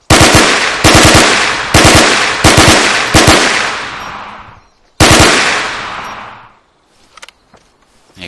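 A 9mm gun in the Arma 3 IFA3 war mod fires in rapid bursts, loud close cracks that tail off into reverberant decay, five quick volleys then a final one, followed by faint clicks.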